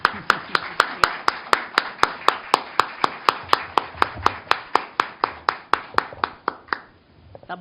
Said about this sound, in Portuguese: pedindo aplausos de boas-vindas à nossa conferencista